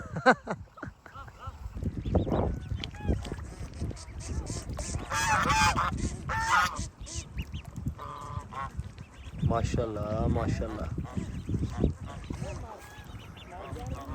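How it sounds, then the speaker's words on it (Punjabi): Geese or ducks, adults with ducklings, honking and quacking on a farm near water, a busy overlapping chorus throughout, with someone talking over them. "ਛੋਟੀਆਂ ਵੀ ਆ ਗਈਆਂ ਬਤਖਾਂ।"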